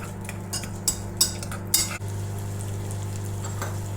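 Onions fry in butter in a pan with a steady close sizzle, while a utensil scrapes and clinks against the pan in several stirring strokes during the first half.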